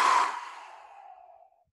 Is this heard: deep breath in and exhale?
yes